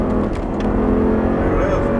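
An Audi R8 engine pulls hard on throttle with a loud, sustained roar, while someone talks over it.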